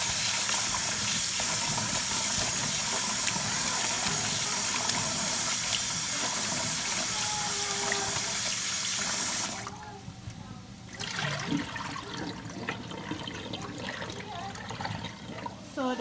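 Rice being rinsed and rubbed by hand in water in a home kitchen, with steady splashing and running water, then a pause and quieter sloshing near the end.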